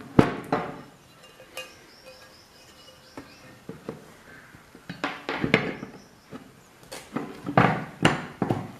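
A candle container lid being closed by hand, heard as a series of sharp plastic clicks and taps scattered irregularly, with louder clusters near the end.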